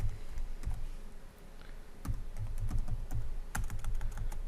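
Steady typing on a computer keyboard while programming Studio 5000 ladder logic, with dense, continuous key clicks and a few sharper taps, close up and alone with no voices.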